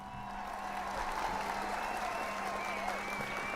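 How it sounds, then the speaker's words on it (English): Steady applause from a studio audience at a comedy podcast taping, a continuous wash of clapping at even loudness with some crowd noise mixed in, with no talk over it. "Round of applause."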